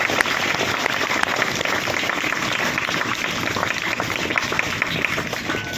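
Loud, steady applause from a large crowd at a village memorial event, dense clapping that continues without a break from start to finish.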